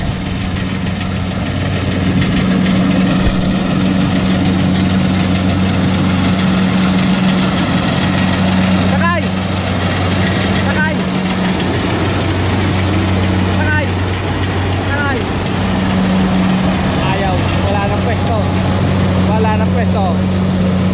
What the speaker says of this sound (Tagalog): Tingnan natin kung makasakay tayo sa harvester.